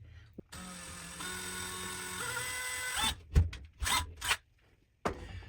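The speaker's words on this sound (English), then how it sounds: "I'm going to pre-drill holes into my studs so that I can very carefully drill this into my stud" A power drill whines steadily at high pitch for a few seconds while pre-drilling into a wall, then cuts off, followed by short scraping bursts and brief rustling.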